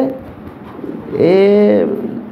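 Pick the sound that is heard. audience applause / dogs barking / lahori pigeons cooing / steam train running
lahori pigeons cooing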